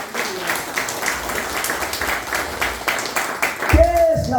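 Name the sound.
audience applause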